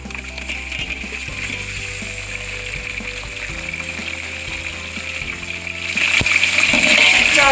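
Meat goes into a large pot of hot oil with browned onions for a big batch of pulao. A loud, rushing sizzle fills the clip with low clatter underneath and swells sharply toward the end as the frying intensifies.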